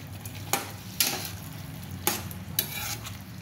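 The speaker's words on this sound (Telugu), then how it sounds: "ఒక 5 మినిట్స్ ఉడికించి పెట్టుకున్న కాలీఫ్లవర్ని ఇలా యాడ్ చేసుకోవాలి. మిక్స్ చేసుకుందాము." A spoon stirs boiled cauliflower into a masala curry in a pan, with a few distinct scraping knocks against the metal over a soft background sizzle.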